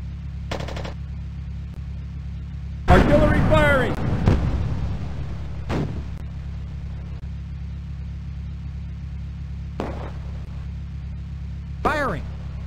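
Vehicle gunfire in the WWII tank game Across the Rhine, involving StuG assault guns: a loud burst of firing around three seconds with a few shorter bangs later, over a steady engine hum and intermittent radio-style voices.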